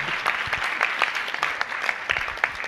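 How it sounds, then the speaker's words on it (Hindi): Crowd applause at a Jain religious gathering, a brisk, uneven burst of many hands clapping close by with scattered sharper claps, continuous and fairly loud. "तालियां तालियां तालियां।"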